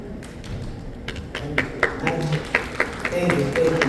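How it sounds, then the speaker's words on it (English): Scattered audience applause at a GAC car launch in the Philippines, following the announced price of the GNA Plug-in Hybrid, starting as a few taps and building into a short burst of clapping. "They heard the SRP, first they clap"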